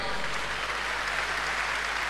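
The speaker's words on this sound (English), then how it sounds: "Give the Lord a clap offering." Congregation applauding in a church service, a steady, dense wash of clapping that fills the whole moment at moderate loudness, with no clear voices on top.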